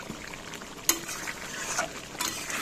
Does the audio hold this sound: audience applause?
no